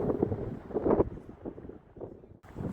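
Strong wind gusts over Lanka bridge, a high motorable river bridge above the Jadh Ganga gorge in Uttarakhand, roaring and buffeting against the microphone in loud surging waves with no voices.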